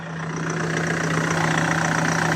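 A Citroen C4 Picasso 2.0 HDi diesel engine idles steadily after being misfuelled with petrol, a constant low hum with an even rumble, close and fairly loud throughout with no talking.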